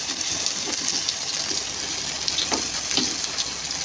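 Ground spice paste hits hot oil in a frying pan while making a sweet-sour gur dish, giving a steady, close hiss and sizzle with scattered crackles throughout, no voices.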